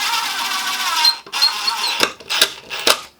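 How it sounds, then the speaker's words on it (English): A DeWalt cordless power tool fitted with a PowerStack battery whirs in a close, high-pitched motor whine. It then stops and restarts in several short bursts. "Then what I have is my DeWalt with my power stack battery."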